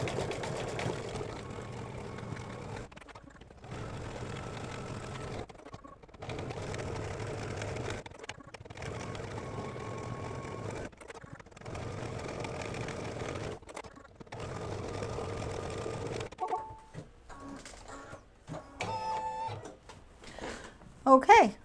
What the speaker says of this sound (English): color stop number 19 is going to stitch the stars